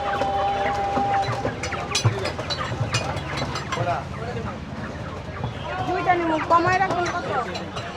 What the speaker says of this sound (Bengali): এদিকে দেশি মুরগি আছে।